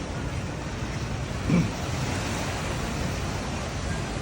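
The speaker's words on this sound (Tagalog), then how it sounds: "Kasi ang lakas ng alon eh, no?" Strong sea waves roll onto the beach at Station 2 in Boracay, producing a steady, broad wash of surf mixed with wind noise, continuous and moderately loud throughout.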